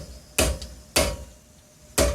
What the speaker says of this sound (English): let me take my hammer, and I just want to knock this whole unit over just a scotch